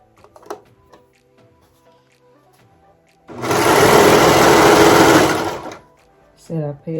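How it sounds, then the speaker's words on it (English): A sewing machine stitching T-shirt sleeves runs as a loud, close, steady mechanical whir for about two seconds, then a brief second burst, with faint handling clicks and quiet speech before it. "Start sewing."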